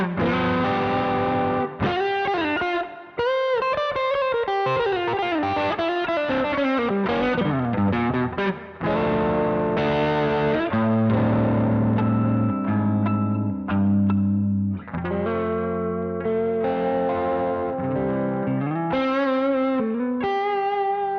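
Electric guitar with humbucker pickups played through a Brown Amplification Protein overdrive pedal, giving thick, distorted chords and riffs that ring out loud and continuous with no talk over them.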